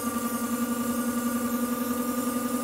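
An electric car motor idling on a Soliton controller, giving a steady electrical hum with a constant tonal whine and no rhythm changes, close and continuous with no voices.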